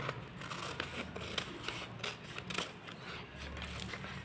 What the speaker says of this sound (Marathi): इथे मी पहिलं पाठीमागच्या बाहीचा आकार कापून घेते